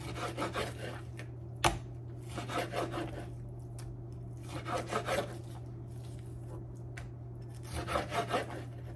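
Knife slicing food on a board before grilling chicken barbecue with zucchini, irregular soft cutting strokes with one sharp tap, close and fairly quiet over a steady hum.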